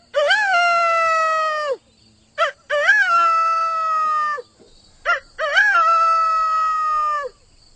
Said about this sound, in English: The rooster's main call is he makes a crow sound